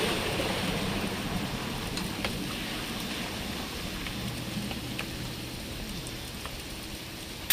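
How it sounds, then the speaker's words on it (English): Steady rainfall in What Remains of Edith Finch, a dense, even hiss of drops with faint scattered patters and a low background rumble, continuous throughout without speech. "It's gonna rain the whole weekend, isn't it?"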